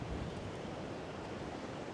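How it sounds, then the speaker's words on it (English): Choppy sea surf and gusting wind at a shoreline fishing spot, a steady broadband roar of waves with wind buffeting the microphone, continuous and fairly close with no talking. "It's very choppy though, it is very choppy, it's quite windy"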